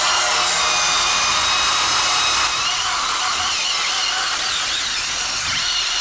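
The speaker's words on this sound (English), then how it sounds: "I'm just gonna scrub at this rust real quick" Surface rust is scrubbed off a car part on a Nissan Silvia S14, a loud, continuous close-up abrasive scraping with no pauses and no talk.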